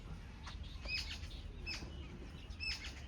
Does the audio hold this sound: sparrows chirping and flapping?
yes